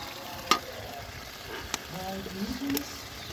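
Mustard greens for Punjabi sarson ka saag fry in a pan, a faint steady sizzle broken by a few clacks of the stirring spoon, close by and quiet.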